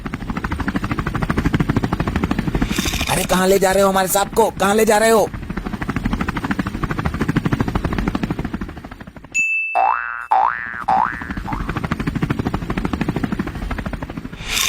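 A helicopter's steady rotor and engine drone fills the background throughout, with people shouting over it and a brief cartoonish boing midway.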